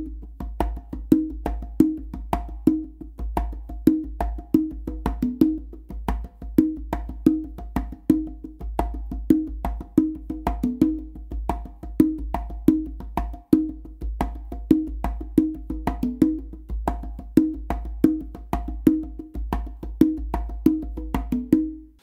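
Two conga drums play a modern funk pattern, a steady stream of crisp slaps and open tones in a tight repeating groove, close and alone with no talk.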